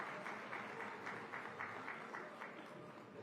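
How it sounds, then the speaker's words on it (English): Applause for dignitaries at the opening ceremony of Mumbai Climate Week, a steady, moderately distant round of clapping that fills the whole moment with no speech over it. "A huge round of applause, please, for all our dignitaries."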